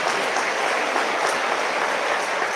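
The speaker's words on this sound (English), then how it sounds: "please give a round of applause to the summa cum laude students of the class of 2022" A graduation audience at a 2022 high school ceremony applauds its summa cum laude students, dense steady clapping that fills the hall at an even level from start to finish.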